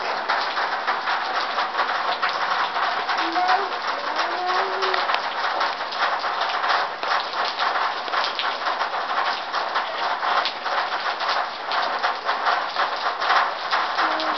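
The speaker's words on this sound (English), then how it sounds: "because it's too much rain right now" Steady, dense rain hiss throughout as rain turns to snow, with pigeons cooing softly underneath.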